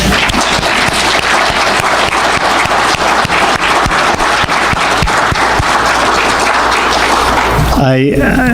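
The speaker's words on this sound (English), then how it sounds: "I think we should just give her a round of applause" Sustained, loud applause from a full audience at a memorial service, dense and steady throughout with no gaps before it starts to fade near the end.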